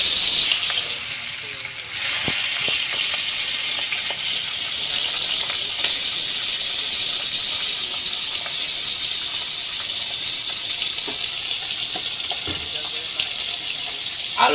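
Potatoes fry in oil for a home-cooked meat curry. A steady, broad hissing sizzle runs the whole time, with voices talking over it.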